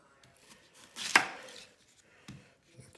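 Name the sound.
knife chopping an onion finely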